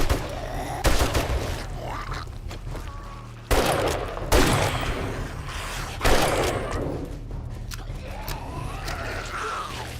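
Gunfire in the survival video game 7 Days to Die, several loud bursts of shots at about 1, 3.5 and 6 seconds over steady game ambience, with a gasp-like voice sound in between.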